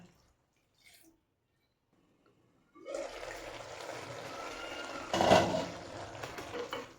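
Water is poured into a pot of cauliflower curry with onion, capsicum and tomato, a splashing rush that starts suddenly after near silence and holds steady, peaking briefly.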